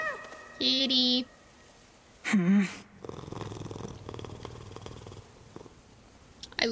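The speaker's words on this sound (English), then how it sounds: "I love the cat." A cat in the video game Hades 2 purrs with a low, steady rumble lasting a couple of seconds, set between short bright tonal game sounds.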